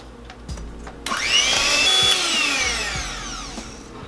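An electric mixer starts up and runs steadily through sugar cookie dough in a bowl, a loud whirring motor whine that rises and wavers, with a few clunks just before it kicks in.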